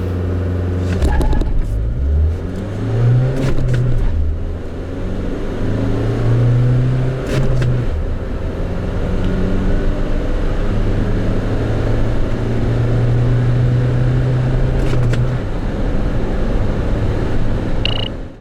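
A 2019 Renault Master 13-seat bus with a manual gearbox accelerating from inside the cabin: a loud, steady diesel engine drone rising in pitch through each gear, with short dips at the gear changes.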